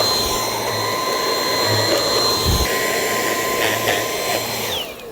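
Vacuum cleaner with a roller brush nozzle runs steadily and loudly while cleaning a Blueair air purifier, a continuous whine that drops off at the very end.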